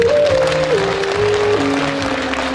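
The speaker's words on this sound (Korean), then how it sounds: "박수 한번 쳐주세요." Audience applause at a political lecture event in Jeonju, dense, loud clapping throughout, with a sustained musical tone stepping down in pitch underneath.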